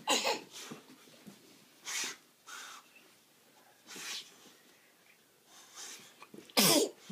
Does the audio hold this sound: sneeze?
yes